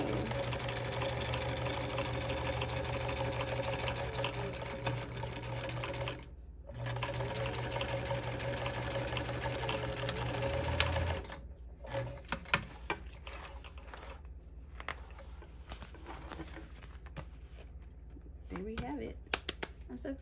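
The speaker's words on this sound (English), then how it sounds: "So now it is time to sew on the sides." A sewing machine stitches the sides of a vinyl travel bag, running in steady long bursts with a brief pause near the start and stop-start stitching toward the end; it sits close and clear with faint talk in the background.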